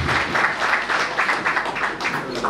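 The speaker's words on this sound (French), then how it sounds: "Applaudissez pour eux s'il vous plaît." A crowd at an anniversary celebration claps steadily and loudly in a dense, continuous round of applause with a slight rhythmic pulse running through it.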